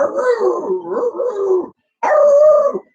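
Beagles howl and bay loudly and close by, in drawn-out wavering howls with barks mixed in, then a short pause before another long howl.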